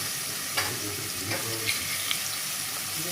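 Chopped onion drops into a hot Indian tadka of oil with curry leaves and turmeric, setting off a steady, close sizzle and crackle with a few soft stirring clinks over it.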